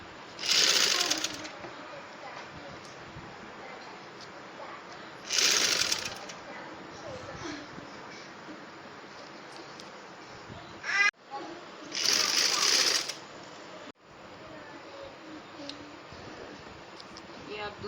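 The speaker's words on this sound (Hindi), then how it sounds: "ये आप दूसरी तरफ से भी ऐसे ही सिलाई लगा देनी है" Sewing machine stitching a bridal lehenga, running in three loud bursts of about a second each, separated by quieter stretches of handling and a soft voice talking.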